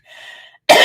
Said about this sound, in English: I did not mean to cough all over you guys.